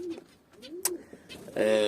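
A pigeon coos close by in soft, rolling low notes, a couple of gurgling calls, followed by a brief burst of other noise at the end.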